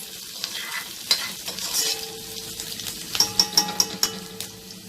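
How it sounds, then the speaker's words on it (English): Onions sizzling steadily in hot oil, with a run of sharp clinks and scrapes from stirring near the end; no talking. "Now the oil is hot. You can hear the sizzling."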